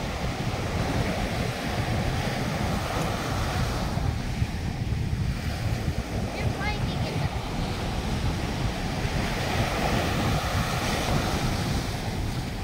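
Wind and ocean waves on a sandy beach at sunset at Crystal Beach in San Narciso, Zambales, Philippines: steady, dense surf wash with continuous wind buffeting the microphone, holding at an even level throughout.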